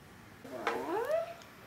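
A single drawn-out cat meow, rising then falling in pitch, fairly close and clear against a quiet background.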